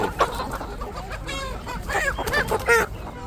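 Roosters and hens cluck and call at a poultry market, several bursts of sharp clucking and short crowing-like squawks close by over a low background murmur.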